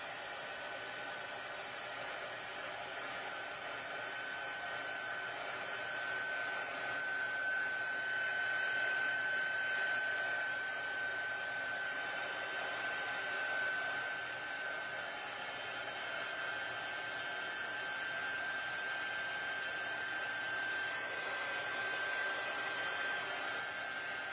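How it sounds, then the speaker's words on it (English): A heat embossing tool blows hot air in a steady, even whir with a faint high whine, holding constant throughout at moderate loudness for a paper craft project. "the heat tool, and we're gonna emboss it"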